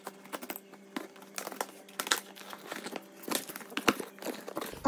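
A wrapped parcel is opened up close, its packaging crinkling and rustling in irregular bursts with brief tearing crackles, fairly quiet and without talk.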